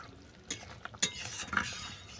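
Mango chicken curry being stirred in a pan, a soft, fairly quiet scraping with a few sharper utensil knocks against the pan over about two seconds.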